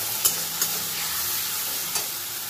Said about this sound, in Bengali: দিয়ে খুব ভালো করে সব কিছু একটু কষিয়ে নেব